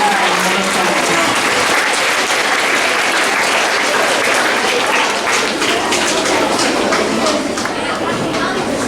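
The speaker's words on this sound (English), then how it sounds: "Let's give our fourth grade ladies and boys a round of applause." A school awards assembly audience gives a long burst of loud, dense applause that keeps a steady level for the full nine seconds, with a few voices mixed in.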